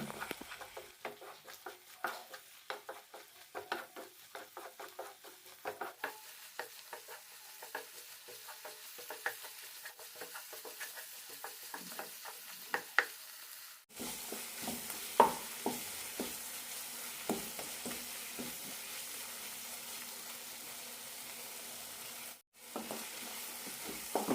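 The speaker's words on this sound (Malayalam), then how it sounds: "രണ്ട് മൂന്ന് മിനിറ്റ് നന്നായി വഴറ്റിയെടുക്കണം" Masala for paneer kurma sizzles and fries in a pan, a steady close hiss broken by scraping and stirring strokes at irregular intervals, loudening partway through, with no talking.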